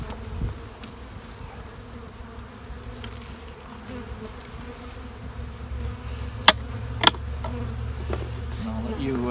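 Honeybees buzz steadily at a beehive during a spring check after winter feeding, a close continuous droning hum with a couple of sharp clicks near the end.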